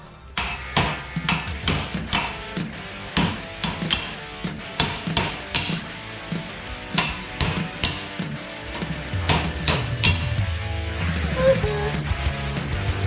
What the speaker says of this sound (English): I'm gonna get to popping out studs now